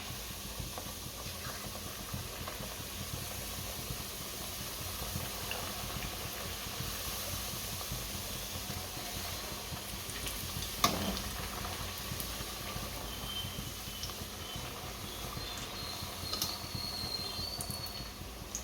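A long, even, quiet hiss and bubbling of oil deep-frying mint puris, holding steady throughout with one tiny click midway and no voices.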